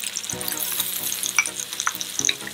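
Garlic sizzles in a hot pan alongside golden-browned fish fillets, a close crackling fry with bright spitting pops and a few louder bursts over a steady hiss.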